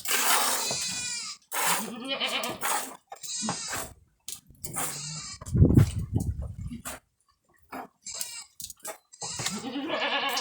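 Goats bleat repeatedly close by on a dairy goat farm, several overlapping wavering cries with short pauses between them.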